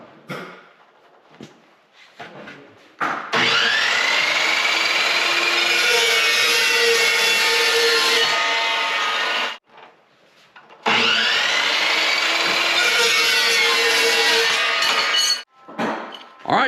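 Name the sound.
chop saw cutting pieces in a home metal fab shop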